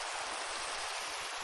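Steady video-game rain hisses evenly and loudly across the whole moment, a dense, unbroken wash with no voices over it.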